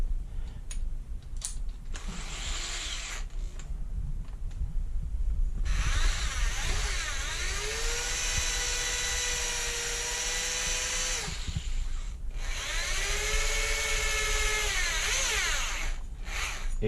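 Steel wool spun inside .300 Win. Mag. brass case necks to deburr them, making a high whirring, drill-like grind that starts after a few short clicks, holds steady, stops briefly and resumes, close and loud.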